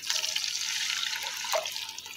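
Water poured from a glass into a pan while making peanut halwa syrup with oil and sugar: a steady close splashing pour lasting a couple of seconds, with no talk.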